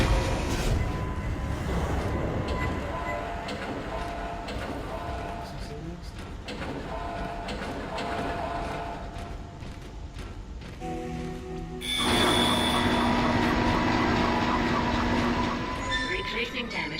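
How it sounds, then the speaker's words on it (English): Tram car rolling into a station in the Dead Space video game, with a long, steady mechanical rumble and rattling rail noise that swells louder near the end. Voices murmur faintly underneath. "Replacing damaged tram car."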